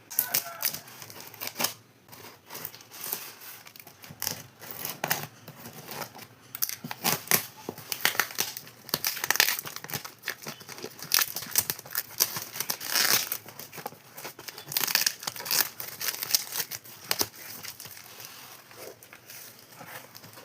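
A cardboard box holding a clay pot packed in thermocol is unboxed up close, with rapid irregular crinkling, tearing and scraping bursts continuing throughout.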